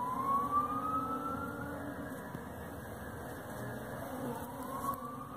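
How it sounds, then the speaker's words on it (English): An odd, sliding siren wails at a distance, its pitch gliding up and down over a constant low traffic rumble. "Boy, that's the weirdest siren I've ever heard."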